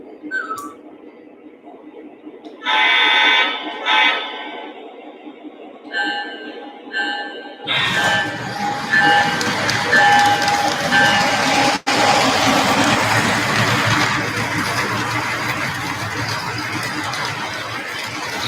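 A Union Pacific model train engine powers up from a remote, with short horn blasts and whistle tones, then settles into a loud, steady running rumble of clicking wheels and motor, briefly broken by one sharp click.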